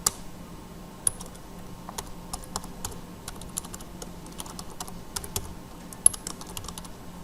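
Typing Java code on a computer keyboard: quick, uneven clusters of crisp key clicks up close, with brief pauses between bursts and occasional harder keystrokes standing out.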